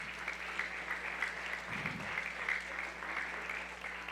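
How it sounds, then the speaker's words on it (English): A school audience applauds the principal with steady, moderately distant clapping that fills the whole stretch with no talking over it. "give her a round of applause"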